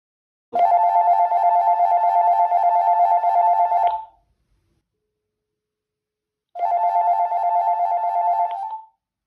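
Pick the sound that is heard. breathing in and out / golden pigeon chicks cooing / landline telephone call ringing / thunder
landline telephone call ringing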